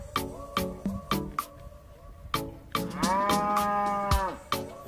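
A pink-colored beef cow moos repeatedly in short calls, then lets out one long drawn-out moo, fairly close, with no talking.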